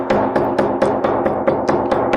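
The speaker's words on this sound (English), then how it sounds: "We finish it by hammering using triple iron." A triple iron hammering a Steenbeek brace during assembly: about ten quick, evenly spaced strikes in a steady rhythm, close and loud.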